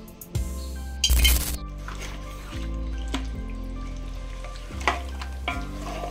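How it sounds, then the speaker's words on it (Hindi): Akhni mixed with pure ghee sizzles and clinks as it is stirred and transferred into a cooking pot, with repeated scraping and tapping of utensils over a steady frying hiss. "अब हम इसको मिक्स करके भगोने में ट्रांसफर कर देंगे।"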